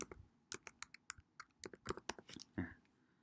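Fast irregular typing on a computer keyboard, a quick burst of crisp key clicks at close range, quiet and alone with no talk.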